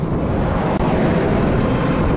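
A motor grader blades a windrow off a gravel road, making a loud, steady, unbroken rumble of heavy machinery mixed with wind-like noise, up close.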